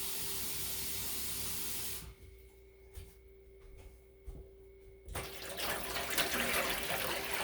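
Water runs loudly from a tap, stops for a few seconds of quiet with faint knocks, then gushes again, filling a dye bath nearby.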